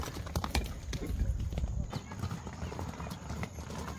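Horse hooves clip-clop in a quick, uneven rhythm on the road during a cavalcade in Uriangato, faint and somewhat distant, with people talking and calling out over them.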